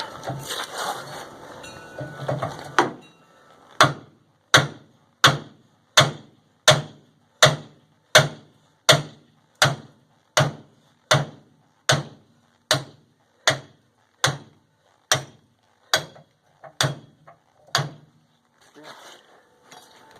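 A hammer driving out a rusted receiver hitch, about twenty loud metallic blows struck at an even steady rhythm up close, with muffled noise before and after the run of strikes.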